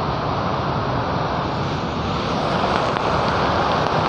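Mallalli Falls pours heavily, sending up spray like rain. Its roar is a constant, loud, unbroken rush heard close by with no pauses.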